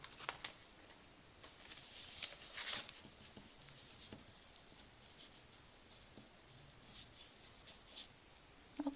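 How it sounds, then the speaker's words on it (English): Pen or pencil writing by hand on paper during a counseling session, a faint continuous scratchy patter with small ticks and rustles, fairly quiet and with no talking over it. "So let's write it down."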